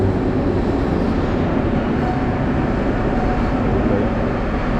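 A train rumbles into a station in Uzbekistan as a steady, loud, continuous roar that holds even across the whole stretch, with no speech.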